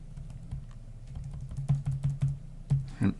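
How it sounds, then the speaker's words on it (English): Keys tapped on a computer keyboard while editing network settings on a Linux system, a quick uneven run of close, crisp clicks with short pauses, alone with no talk. "So I use I on the keyboard, my arrow keys to go over and remove the old information."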